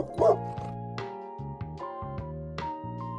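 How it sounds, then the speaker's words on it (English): A dog barks a few times in quick yips over a light background of musical tones, near and moderately loud, with no one speaking. "A man is walking his dog."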